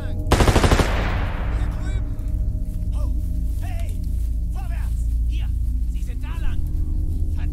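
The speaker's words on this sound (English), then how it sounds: "Why are people shooting?" Rapid machine-gun fire in the video game Martha Is Dead bursts loudly at the start, then a low engine-like drone continues while someone talks over it.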